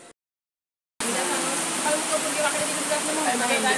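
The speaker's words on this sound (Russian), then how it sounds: "И опять у нас дождь." After a second of silence, steady rain hisses loudly and evenly, a dense wash of drops pattering on surfaces, close by.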